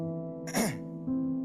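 A dancer imitates another man's cough with a short vocal burst, heard close and alone against a steady sustained musical tone in the background.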